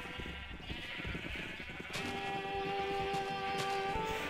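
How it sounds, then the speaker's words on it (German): Sheep in the video game Minecraft bleat repeatedly, sustained and fairly loud, over a busy game soundscape with no talk. "Das Schaf kommt nicht rein, oder was?"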